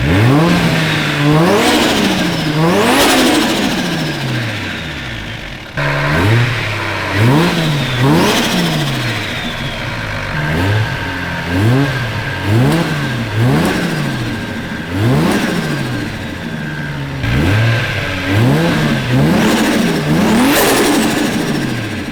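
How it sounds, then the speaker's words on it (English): A turbocharged car engine with a pod air filter revs repeatedly, each rise in pitch followed by a drop, about a dozen loud blips in a steady rhythm, with a faint turbo whistle on the peaks. "I need to go higher RPM to make the turbo like spool and have that whistling noise"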